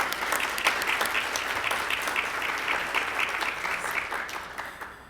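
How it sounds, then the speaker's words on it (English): Steady applause fills an awards ceremony hall at a university presidential awards event, an even wash of many hands clapping at moderate distance with no pause. "Please join me in applauding their efforts of being submitted."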